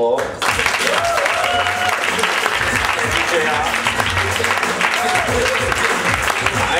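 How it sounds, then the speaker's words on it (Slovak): Sustained crowd applause after the first round of a slam poetry show in Žilina, Slovakia, loud and continuous for about seven seconds with some cheering mixed in. "Tak ja poprosím aplauz pre prvé kolo."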